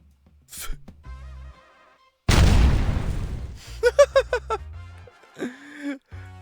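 A grenade bursts in a shooter video game, one loud roaring blast lasting over a second, followed by a run of short rhythmic pops and synthetic game effects, with brief talk around it.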